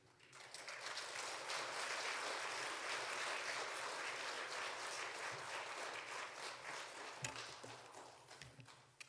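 A church congregation gives sustained applause to welcome a pastor at a Sunday service, a dense, steady wash of clapping that swells and then tapers off, heard from some distance.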